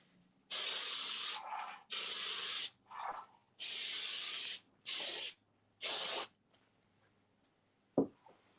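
Cooking spray hisses in six quick bursts of about a second each onto a cake baking pan, close and loud, with near silence between them and a small knock at the end.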